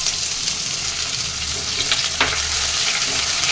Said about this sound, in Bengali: এটাকে ভেজে নেবো যতক্ষণ একটু কালারটা চেঞ্জ না হচ্ছে